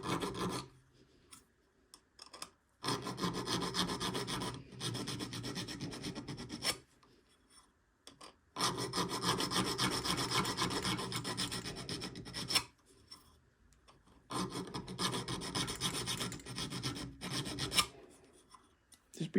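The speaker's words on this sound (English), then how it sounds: "So you have to remember that when you're filing." A hand file rasps across a metal workpiece in long repeated bursts of steady scraping, close and loud, with brief quiet pauses between the runs of strokes.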